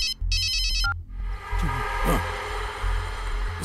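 A phone ringtone trills in a rapid repeating electronic burst at the start, then gives way to a busy film scene with engine-like rumble and voices.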